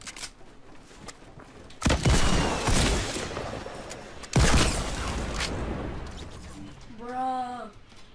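Gunfire in Fortnite cracks out in two loud bursts with long ringing tails, then a short tonal in-game sound follows near the end.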